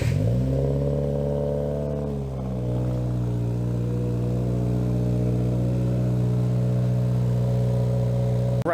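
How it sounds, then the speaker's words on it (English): Modified Subaru WRX fitted with a cat-back exhaust and J pipe, its engine settling from a brief rev into a steady, loud, throaty idle that holds evenly throughout, close by and without talk. "Then we're going to get another startup, and Riley's going to change the tune on it"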